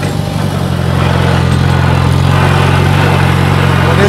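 A tractor pulling a chisel plow through a field during spring tillage, its engine droning steadily and loudly at a close distance with a constant low rumble, alone with no voices.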